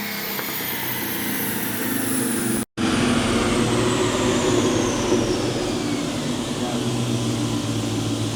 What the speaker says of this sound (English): That was a good plane.